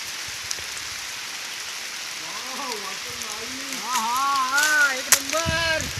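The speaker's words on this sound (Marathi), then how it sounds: "आता दुपारचे 12 वाजत आले आणि जोरदार पाऊस येतोय." Heavy midday rain pours down in the Konkan countryside, a steady dense hiss throughout, with voices rising over it in the second half.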